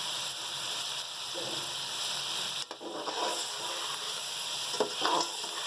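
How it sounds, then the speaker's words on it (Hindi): Tomatoes and spices frying in a pan for matar keema, a steady soft sizzle with a brief stir or clatter near the middle and a few louder spatters toward the end. "इन मसालों को भी हम 5 मिनट तक भूनेंगे।"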